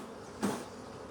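An agitated honeybee buzzing close by during a hive split, a brief louder buzz swelling out of a low steady hum of the colony.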